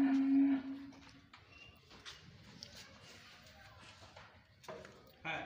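A calf stands on a livestock weighing scale while a loud, drawn-out low moo opens the scene, followed by fainter shuffling and farmyard noise with people talking nearby.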